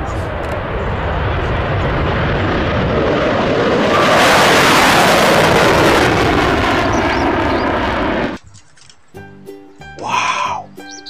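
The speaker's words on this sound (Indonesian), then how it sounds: "Ada pesawat jet tempur." A fighter jet roars overhead, a loud broad rush that swells toward the middle and then cuts off, followed by people talking and exclaiming.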